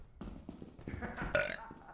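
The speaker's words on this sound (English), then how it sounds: "I have to burp." A single loud, drawn-out burp in a reverberant room, rough and guttural, swelling toward the end and echoing off the walls, with no talking over it.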